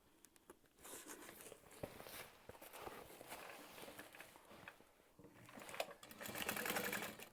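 A sewing machine stitches fabric with foam padding, making a Scoops Ahoy piece. Runs of close, rapid mechanical stitching start and stop, with no talking.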